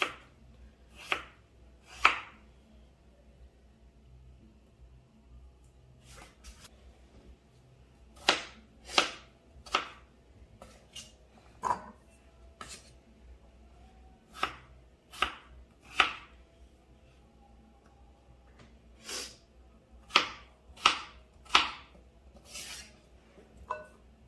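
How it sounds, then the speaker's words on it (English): A knife dices potatoes on a cutting board in close, crisp chops that come in irregular bursts and clusters with short quiet gaps, and no one speaks. "I like to use a cutting board for my potatoes when I'm dicing them"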